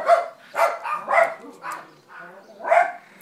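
A dog barks in a series of about six close, loud barks at an irregular pace at a residential property, with no other sound between the barks.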